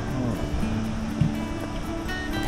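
Steady rushing water from a river flowing near Yoro Falls in Gifu, Japan, a constant broadband wash heard close and unbroken throughout.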